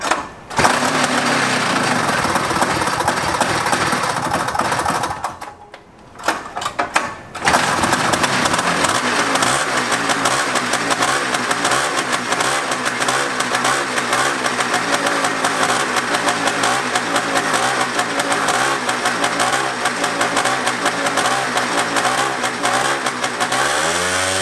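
A 1979 Odyssey FL250 offroad go-kart with a 2-stroke engine, jacked up with a new carburetor, revs hard and loud in a buzzing rasp, briefly dropping away around five seconds before screaming again continuously.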